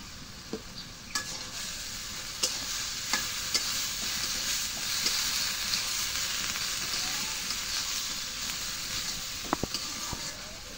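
Taro flower curry sautéed in a pan, with steady frying sizzle and hiss broken by intermittent scraping stir strokes, close and fairly loud throughout with no talking.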